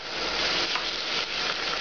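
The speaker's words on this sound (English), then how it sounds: "now I'm going to add an ounce of cognac" Cognac poured into a hot pan with veal shanks for ossobuco fills it with a loud, steady, hissing sizzle that runs throughout, with no voices.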